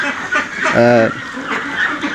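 A single short nasal quack from a 39-day-old farm duck sounds up close against a steady background hum.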